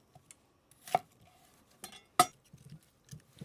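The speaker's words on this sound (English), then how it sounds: "Cut it in half. I'll probably cut it into sixths." A black steel chef's knife cuts fennel on a board, a few sharp separate chops and taps spaced irregularly, close but fairly quiet, with faint clinks between strokes.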